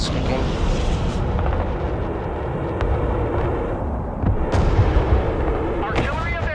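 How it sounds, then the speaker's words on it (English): Artillery barrage in the multiplayer war game Broken Arrow, a dense, continuous rumble of booming blasts and crackling impacts with sharper bursts near the end, heard under voices talking. "Alright, I'm firing artillery on that."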